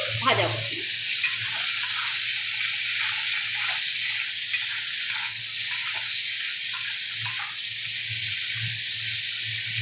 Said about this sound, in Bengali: আমি শুধু ঝিঙাগুলোকে ওই তেলের মধ্যে একটু ভাজা করছি